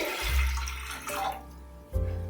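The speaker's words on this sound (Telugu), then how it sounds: "ఇందులో వాటర్ పోసి" Water splashes into a pressure cooker pot in two short pours, with a brief pause between them, close by and fairly loud.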